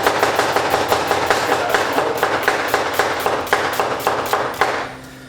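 A knife chopping onion and garlic on a board for a vegetable gratin, about twenty crisp, evenly spaced strokes close by, stopping near the end with no talking.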